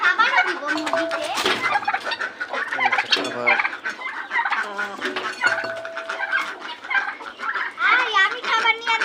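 Chickens on a rooftop mini farm clamour at feeding time, a dense, continuous chorus of clucks and squawks close by, with people talking over the flock throughout.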